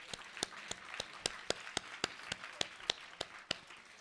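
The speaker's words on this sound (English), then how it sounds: "Let's give a round of applause." Faint, evenly spaced claps at a computer science event tap out a steady rhythm, sounding like a small, distant group or a single person rather than a full room.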